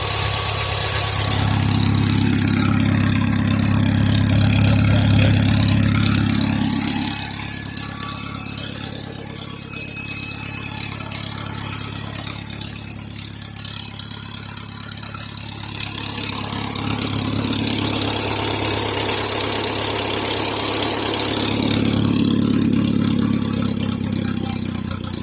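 An old tractor idles loudly and continuously while its hydraulic pump, low on fluid and sucking air, whines and groans. The whine swells, fades and swells again over the rumbling engine, with no talk.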